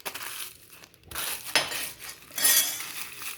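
Crackers being smashed into crumbs for hamburger mix, a few crunchy clattering bursts in separate bursts close by, with no talking.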